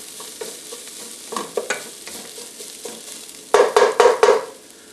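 Vegetables sweating in a hot pan for curry ramen, with a soft steady sizzle broken by scraping stir strokes, then a run of four louder, close scrapes and clatters near the end.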